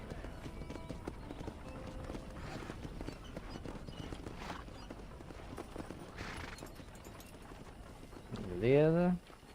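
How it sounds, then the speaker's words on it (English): Horse hooves clip-clop steadily in a Red Dead Redemption game scene, faint and rhythmic under ambient game sound, ending with a short burst of louder tonal noise. "Eu ia parar o cavalo aqui."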